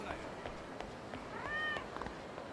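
A cat meows once in the Yakuza 0 video game, a short, rising and falling cry heard amid a busy street ambience with scattered footsteps and clicks.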